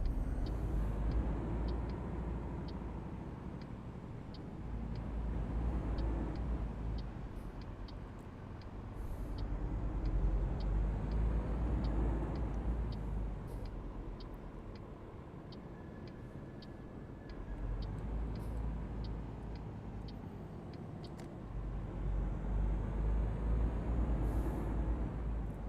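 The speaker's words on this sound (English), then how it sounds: "Nice deep throaty V8." A deep V8 truck engine in American Truck Simulator rumbles low and steady, its revs swelling and easing in slow waves as gears change, with faint ticking of an indicator running above it.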